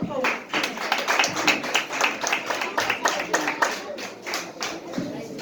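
An audience at a certificate ceremony claps for a graduate, a brisk, fairly dense run of individual hand claps close by, continuing steadily throughout.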